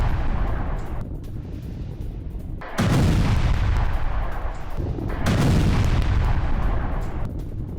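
Heavy explosions from an air strike with Hammer guided bombs in Bryansk, Russia: sustained deep rumbling booms that swell twice into louder blasts, dense and continuous with no voices.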